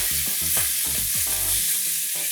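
Finely chopped onions with bay leaves sautéing in a pan for dal gosht, a loud continuous sizzle with several scraping, clattering stirs of a spoon, no voices.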